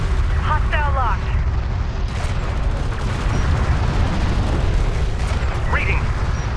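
Hostile railguns firing in Homeworld: Deserts of Kharak: dense, rumbling booms and blasts over a constant roar of battle, with brief chirping radio blips.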